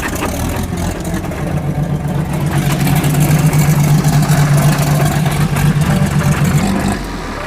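A Rotsun car's engine starts badly after a push-button start, cranking and running rough with a loud, steady low drone that swells midway and then drops back.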